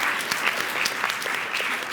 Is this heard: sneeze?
no